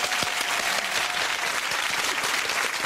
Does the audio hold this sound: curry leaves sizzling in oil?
no